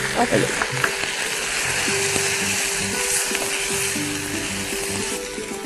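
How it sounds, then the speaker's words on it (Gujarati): Chopped onion sautéing with garlic-ginger paste for palak bhurji, a steady close sizzle and crackle of frying with occasional stirring scrapes throughout, no talking. "લસણ આદુની પેસ્ટ સંતળાય એની સાથે લગભગ 1 મોટી સાઈઝની ડુંગળી અથવા 2 મીડિયમ સાઈઝની ડુંગળી ઝીણી સુધારેલી"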